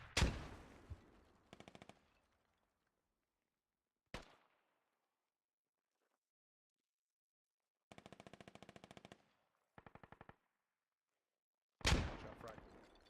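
Gunfire in a military video game: a loud nearby shot opens, then short bursts of rapid automatic fire and a couple of single cracks come in separate clusters against near silence, with a heavy blast at the end.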